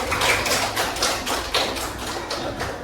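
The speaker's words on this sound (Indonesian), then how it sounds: "Yuk, beri tepuk tangan dulu." A classroom of students claps together in short rhythmic bursts, loud and close, with several distinct beats over a couple of seconds and no talking.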